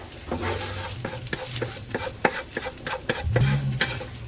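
Onions frying in a pan for a lentil curry, a soft sizzle under repeated clinks and scrapes of a spoon stirring against the pan.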